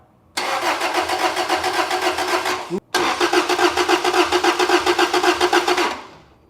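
A Toyota Celica GTS 2ZZ-GE engine cranks briefly, catches, and settles into a steady, loud idle with a rhythmic pulse before cutting off.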